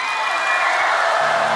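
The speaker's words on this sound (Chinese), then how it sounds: "掌声有请" Studio audience applause greets a guest walking onto the stage of a Chinese TV challenge show: a dense, steady wash of clapping that holds at full strength throughout the short moment.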